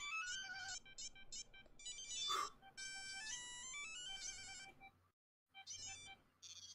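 A phone's electronic ringtone beeps in repeating bursts of high tones, close by, with a short silent pause before it resumes.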